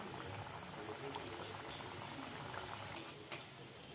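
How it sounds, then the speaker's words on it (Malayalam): Sakar pura dough frying in hot oil in a kadai over a medium gas flame, a steady close bubbling sizzle throughout with a few sharper crackles near the end, no voices. "എണ്ണ ചൂടായിരുന്നു എണ്ണയിൽ ഇട്ട് കൊടുക്കാം ഗ്യാസ് ഫ്ലെയിം മീഡിയത്തിൽ വെക്കണം"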